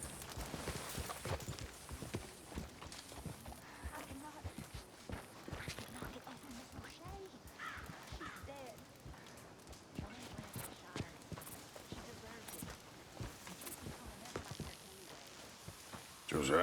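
Horse hooves clip-clop at a steady walking pace in Red Dead Redemption 2, a soft rhythmic clatter running under quiet background sound throughout.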